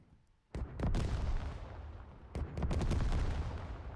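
Machine gun fire in a war video game, with sharp bursts of rapid gunshots starting abruptly and continuing loud and dense, then a fresh heavy volley near the end.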